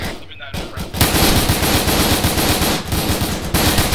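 Gunfire in the ARMA 3 military game: after a quieter opening moment, loud, sustained rapid automatic fire bursts in with a dense rattle that continues to the end, with a brief dip near the close.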